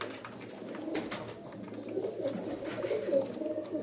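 Breeder pigeons, golden pigeons among them, coo steadily in a low, throaty murmur that rises and falls, with several birds overlapping close by and no talk.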